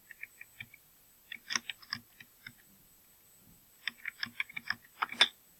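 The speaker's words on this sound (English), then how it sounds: "I'm just going to go ahead and type them." Keystrokes on a computer keyboard, tapped in two bursts of quick, uneven clicks separated by a brief pause, close and fairly quiet with no talking.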